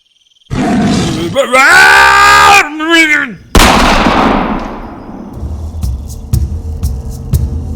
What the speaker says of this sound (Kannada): ಸಾಹೇಬ್ರು ಗುಂಡು ಹಾರಿಸಿದ್ರು